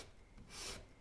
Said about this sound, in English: Here's a sanding block, about 120 grit.